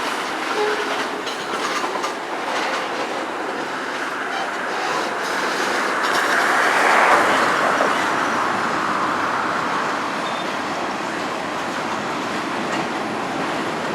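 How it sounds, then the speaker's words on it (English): A CSX manifest freight train starts rolling, a steady broadband rumble of railcars with clickety-clack that builds and peaks midway, heard up close and alone without talk. "our analysis of these Norfolk Southern operations will be quickly interrupted by one of the CSX manifests"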